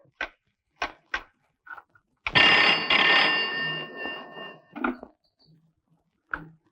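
An old-style telephone bell rings in a Tamil film comedy scene, a few short separate rings followed by a longer sustained ring, then brief ring bursts again, close and clear with no talk over it.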